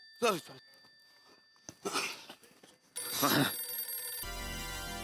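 A telephone rings in a short electronic trill near the end, after a few brief voices and coughing sounds.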